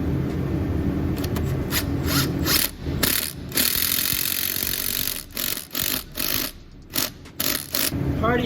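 A ratchet tightens the downpipe clamp bolts on an Audi RS5, a close series of rapid clicking bursts with short pauses between strokes, heard alone without talk.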